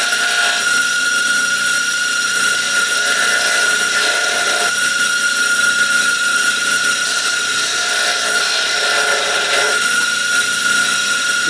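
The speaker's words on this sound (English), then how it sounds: "I might try to use the grinder to buff that off of there." A grinder whines steadily while buffing leftover material off a European mount deer skull, a high, even, close-up tone holding for the whole stretch with slight dips in pitch.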